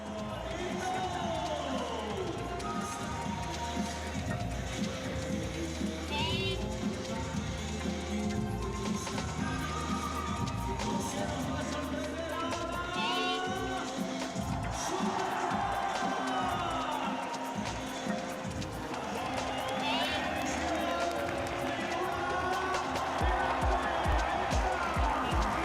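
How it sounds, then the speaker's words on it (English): A large, enthusiastic crowd cheers and shouts for a motorcycle stunt rider, a dense, continuous roar with scattered whoops and clapping, while a voice talks over it. "the enthusiastic crowd really got behind him"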